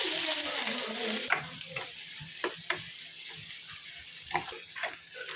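Chopped onions frying in hot oil in a kadai with mustard seeds and asafoetida, a steady broadband sizzle that starts loud, with sharp scraping stir clicks scattered through, no voices.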